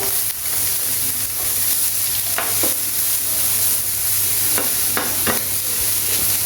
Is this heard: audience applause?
no